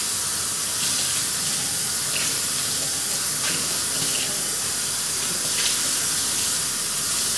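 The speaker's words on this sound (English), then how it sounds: "you can just come right over here to the sink and you can rinse them out and be done" Magic Bullet blender cups are rinsed under a running kitchen sink tap, giving a loud, steady rush of water with splashing that continues throughout.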